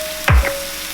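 Meat cooking in a frying pan gives a sudden short burst of sizzle with a low thump, then fades back to a quiet background hum.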